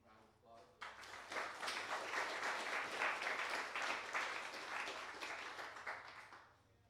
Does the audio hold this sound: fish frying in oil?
no